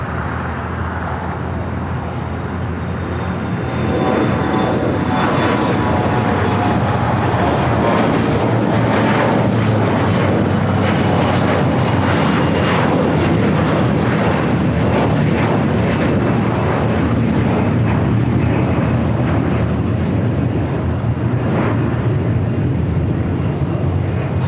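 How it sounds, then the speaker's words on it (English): An Air France A350 airliner touches down on the south side runway at LAX, a loud broadband engine roar that swells after a few seconds and holds steady, heard from a distance outdoors with no voices. "Air France A350 touching down here on the south side."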